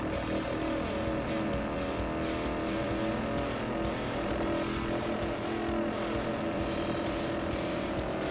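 Several racing-car engines in the FlutterBug racing video game drone and overlap at once on a circle track, forming a loud, continuous, buzzy roar that holds steady throughout.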